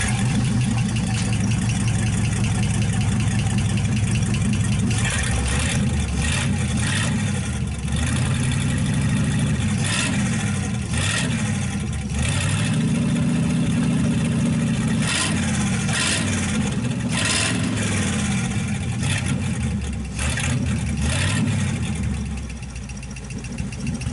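A Cadillac flathead engine fitted to a 1931 five-window car runs with dual exhaust. It sustains a loud, close, rumbling idle that rises in a few brief revs, and a light lifter tap ticks through it.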